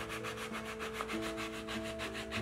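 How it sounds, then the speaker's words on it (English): Final sanding of a wooden Anglo-Saxon lyre: a steady, close abrasive rubbing with a regular back-and-forth rhythm, continuous for a few seconds with no talking. "Time for final sanding before finishing."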